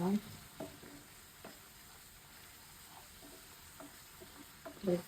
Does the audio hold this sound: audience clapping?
no